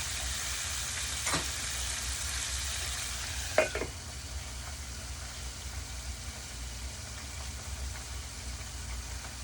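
Tilapia fillets fry and brown in a pan with a constant soft sizzle, and a couple of brief clinks and scrapes sound near the start.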